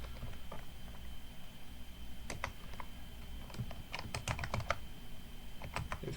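Quick, irregular clicking of computer keyboard keys, fairly close and light, with short bursts of keystrokes over a soft background hum.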